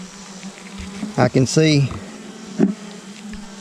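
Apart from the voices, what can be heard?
honey bees in a hive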